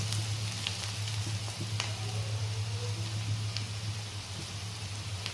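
Ginger garlic paste sizzling steadily in hot oil in a pan for an aloo paneer curry, a close, even frying hiss with faint crackles and no speech.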